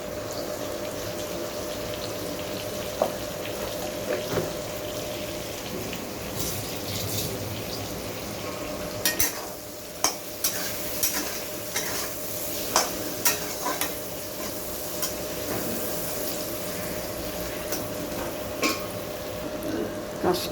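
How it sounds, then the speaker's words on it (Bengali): Potatoes fry in a covered pan for rui fish curry, giving a steady muffled sizzle with scattered small pops and clicks throughout, close and even in level. "আমি এটা ঢাকা দিয়ে ভাজছি, কেননা তাহলে আলুটা ভাজতে ভাজতে কিছুটা সিদ্ধ হয়ে যাবে।"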